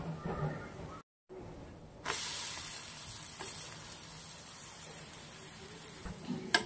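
An upvas bhajani thalipeeth made with Suhana fasting flour roasts on a hot pan with a loud, close, continuous sizzle and hiss, broken once by a brief moment of silence before the sizzle returns stronger.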